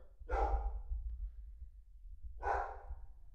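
A puppy lets out two short barks about two seconds apart, set against a low background rumble in a quiet home.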